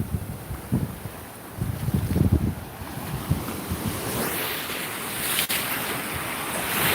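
Ocean waves wash onto a beach in a steady rushing surf, heavily mixed with gusty wind buffeting the microphone while someone walks along the shore.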